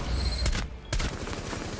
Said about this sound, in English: I shot a teammate in the head.